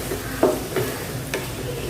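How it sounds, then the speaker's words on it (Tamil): Elephant foot yam frying in oil, a soft low sizzle with a few short scraping stir sounds, close and quiet, no talking. "சேனக்கிழங்கு எண்ணெயிலே நல்லா ஃப்ரை பண்ணி விட்டுறலாம்"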